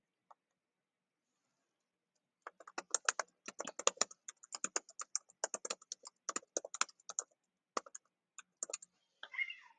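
Someone types a file name on a computer keyboard in quick, uneven bursts of light clicks after a short silence. The clicks are close but soft.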